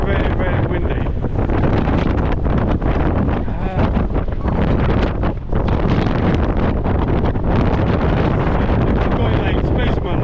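Heavy wind roars and buffets the microphone nonstop on a street in Blackpool, UK, a loud rumbling gust with no letup.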